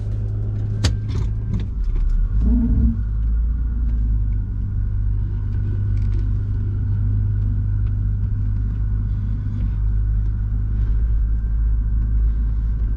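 An Isuzu Vehicross engine idling steadily after a fuel pump replacement, a constant low rumble with a few clinks and handling noises near the start.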